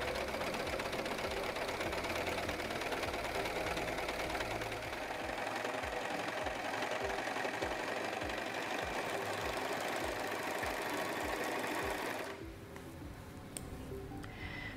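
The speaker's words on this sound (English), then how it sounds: "step on the foot control to begin sewing" Serger sewing machine stitching and trimming fabric with its knives, a fast steady mechanical whir and tick running for about twelve seconds before it stops and fades to quiet.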